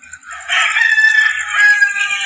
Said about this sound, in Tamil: அந்த குருவிகள் அந்த சேவல் அந்த சவுண்டு